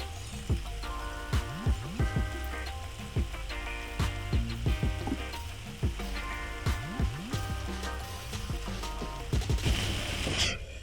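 Rice sizzles and crackles steadily in a hot pan for mixed fried rice, with repeated thumping stirs and scrapes over a constant frying hiss close by.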